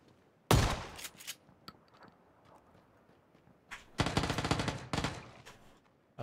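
Gunfire in PUBG during a first-person solo match at a school, a sharp nearby burst early on, a few scattered shots, then a longer rapid volley of automatic fire, with quiet gaps between.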